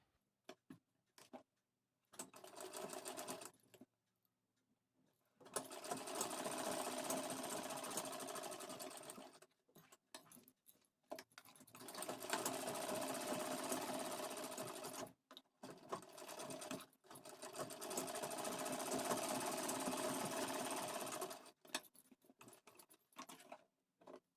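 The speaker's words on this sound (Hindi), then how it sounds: "इस तरफ भी इसकी भी सिलाई करना स्टार्ट करेंगे इस तरह से आराम आराम से" Sewing machine stitching the lining of a black blouse in several long, even runs of rapid mechanical patter, separated by short quiet pauses, heard close with no talking.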